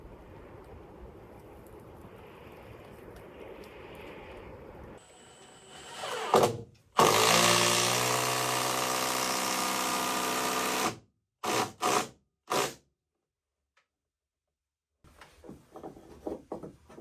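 A loud, sustained grinding whir of a long drill bit boring into a cabin log, followed by a few short bursts, then quiet and faint knocking.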